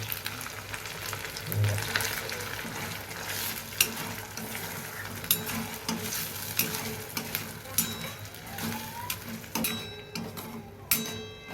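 Masala puree for chicken handi sizzles and fries in a pan while a spoon stirs it, with soft scraping and clicking strokes over a steady, fairly quiet crackle.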